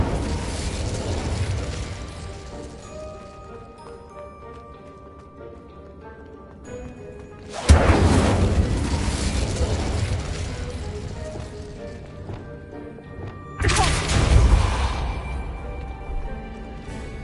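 Fiery Incendio spell bursts in the Hogwarts Legacy video game: two sudden whooshing blasts, each flaring loudly and rumbling down over several seconds, over a steady low game ambience.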